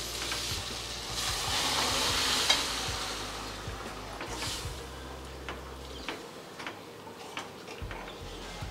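Potato pieces sizzle in a hot pan for a home-cooked lunch, with steady frying hiss and intermittent scraping and tapping of a spoon as they are stirred.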